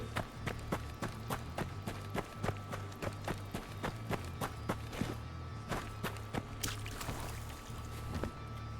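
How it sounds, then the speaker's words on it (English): Footsteps in the video game Deadside, a steady run of regular, close thuds repeating about twice per second over a constant low hum, with no talking. "Man, any footstep sounds right."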